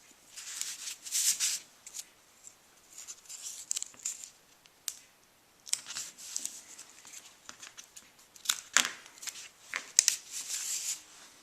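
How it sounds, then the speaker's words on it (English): Scissors cut a strip of sticky double-sided tape for covering a chipboard mini album, close crisp snips and papery rustling in several bursts with brief quiet gaps, no talking. "this isn't tearing, so I'm going to have to cut it"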